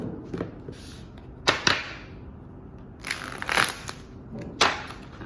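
Tarot deck being shuffled by hand: several brisk riffling bursts with quiet gaps between them, close and fairly soft, no voice over them.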